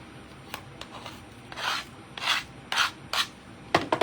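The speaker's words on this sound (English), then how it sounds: "My little scraper. I need to scrape these off." A small cake scraper scrapes pieces off a surface in a series of rough, rasping strokes, short at first, then longer sweeps, close and distinct, with no talking.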